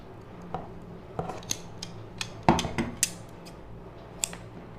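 Scissors snip waste thread while a button machine is being set up, giving a series of sharp, close metallic clicks and snips at irregular intervals, with a louder cluster in the middle and no talking.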